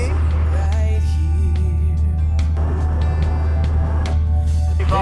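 A light aircraft's engine at full power during the takeoff roll makes a loud, steady drone with a deep rumble underneath, while people talk over it throughout.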